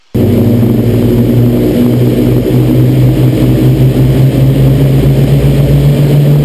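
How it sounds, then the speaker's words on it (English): Rolls-Royce Merlin aircraft engines run in a formation of ten, including a Lancaster bomber, giving a loud, continuous deep drone with steady harmonic throb close by and no speech. "Just listen to the music these engines make as history rolls by."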